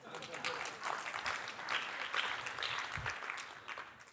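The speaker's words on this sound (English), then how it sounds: "A clap would be nice at this time, by the way." Keynote audience applauding at a tech conference, a steady wash of claps filling the whole stretch with voices mixed in.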